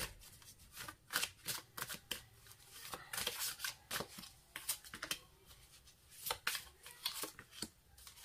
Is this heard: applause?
no